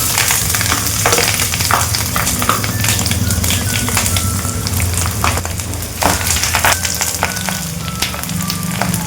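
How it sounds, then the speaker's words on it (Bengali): Maya fish frying one piece at a time in hot oil in a pan on a gas stove, a loud, dense crackling sizzle with bursts of spitting throughout, close up and continuous. "মাছটা ভেজে নেবো এপিট এপিট করে।"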